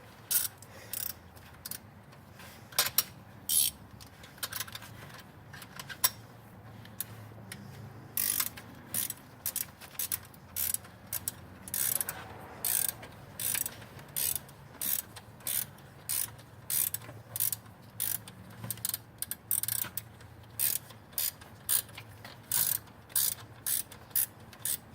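Ratcheting wrench tightening a bolt during an onboard air compressor install, close and crisp, with quick clicking bursts repeating in short rhythmic strokes and pauses between them, no talking over it.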